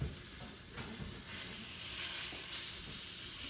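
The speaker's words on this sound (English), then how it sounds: "we got steaks to sear immediately" Flat iron steaks searing in a hot pan, a steady hissing sizzle heard close and low in level, continuous throughout without talk.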